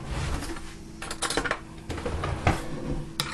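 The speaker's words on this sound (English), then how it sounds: "all we're going to do is we're going to stir that around" A garlic butter topping for cheesy garlic biscuits is stirred in a bowl: quick, irregular clicks and taps of utensil against the bowl, close and fairly quiet, with no voices.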